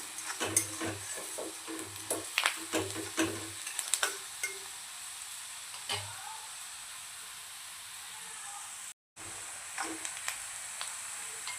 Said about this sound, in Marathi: कांदा छान होत आला आहे